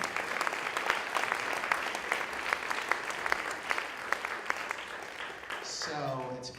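Warm round of applause for a mayor at a county council of mayors and councilmembers gathering, steady crowd clapping that fades near the end as a voice begins speaking.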